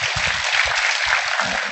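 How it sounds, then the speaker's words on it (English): Audience applause for a festival panel, steady broadband clapping filling the whole stretch at an even level, with faint low murmurs beneath. "One round of applause for my panelists"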